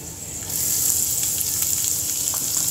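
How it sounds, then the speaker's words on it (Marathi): Onions sizzle and fry steadily in hot oil in a pan with peanuts and chillies for masala poha, a loud continuous crackle that swells slightly after the start, with no talking. "आता याच्यात आपल्याला कांदे टाकायचे"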